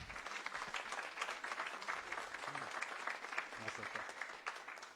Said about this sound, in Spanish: quien les pido un fuerte aplauso, por favor